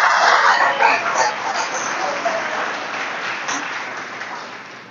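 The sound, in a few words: congregation applauding during a sermon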